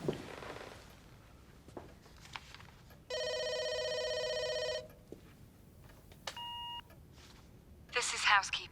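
A housekeeping call rings through to a government complex during a power cut: a steady electronic tone, a short beep, and scattered clicks, with a closing burst of noise, no speech over it.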